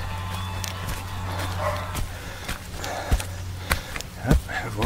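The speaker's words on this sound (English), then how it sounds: "Yep, I've woken the dogs." Dogs barking at a distance outdoors on a windy morning trail, a few scattered yips and woofs over a steady low hum and wind noise.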